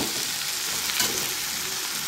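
Potato and tomato pieces frying in a pan while they are stirred make a steady, fairly loud sizzle with soft scraping. It is close and continuous, with no talking.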